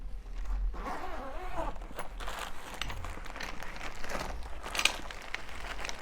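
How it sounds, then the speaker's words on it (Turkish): A zipper opens on the carrying bag of a Nurgaz three-legged tripod camping grill, a close, raspy pull with rustling fabric and handling noise around it. "Çantamızı açıyorum."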